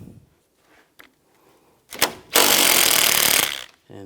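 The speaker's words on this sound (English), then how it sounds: "use an 8mm socket, take these bolts out" A power tool spinning an 8mm socket to remove radiator bracket bolts on a 2004-2009 Toyota Prius, with a few metallic knocks, then one loud sustained whirring burst of just over a second close by.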